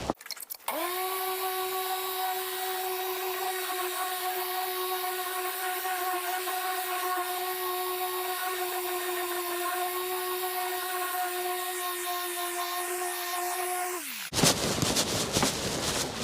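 Machine polisher working car paint to remove swirls and scratches, a loud steady motor whine holding one pitch for about fourteen seconds before spinning down, then brief handling noise, no speech.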